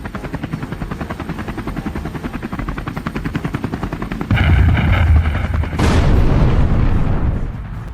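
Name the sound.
helicopter sound effect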